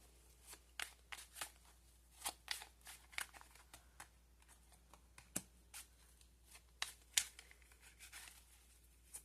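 Tarot cards drawn and handled from a deck, giving a run of soft, quiet paper slides, flicks and crinkles at an uneven rhythm, close by with no talk.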